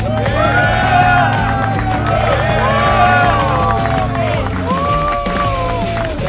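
A studio crowd cheers and claps as a wrestling book author is welcomed, loud continuous hubbub with whoops and whistles over applause, with voices talking through it.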